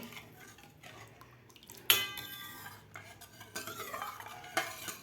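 A spoon stirs moringa drumstick soup seasoned with black pepper and salt in a metal pot, giving soft liquid swishes and light scraping, with a couple of sharp clinks against the pot.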